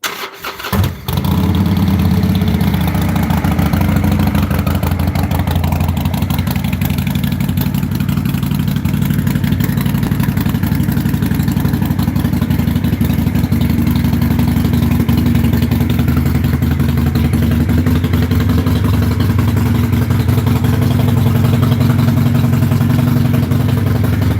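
A motorcycle engine fires up with a brief starter burst, then settles into a steady, loud idle in neutral that runs unbroken and close for the rest of the stretch.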